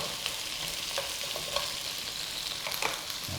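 Vegetables hit a pan with Korean spicy pork and oil, giving a steady, moderate sizzle and crackle with occasional sharper spits and stirring clatters, no talking.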